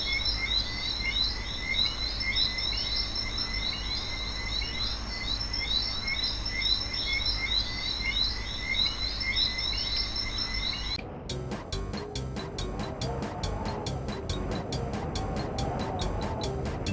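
Looping frog croaks and insect-like chirps in the video game Ahriman's Prophecy, a pulsing rhythmic chorus that switches abruptly to a different, rapid croaking pattern partway through.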